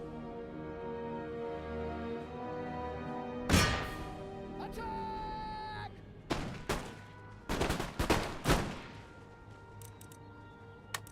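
Musket volley fire from Total War: Empire, a British campaign battle: a steady game music bed broken by one loud crack, then several sharp volleys in a cluster, heard without talk.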